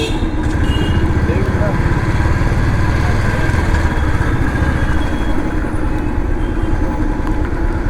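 Motorbike ridden through South Mumbai streets, a steady engine drone and city traffic noise running continuously at close range, with a voice talking over it.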